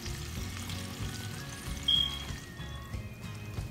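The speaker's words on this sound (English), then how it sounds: "I like to sear my salmon really well" Salmon sears in an oiled pan, giving a close, continuous sizzle with small crackles and a few thin high squeals from the hot pan, heard without talk.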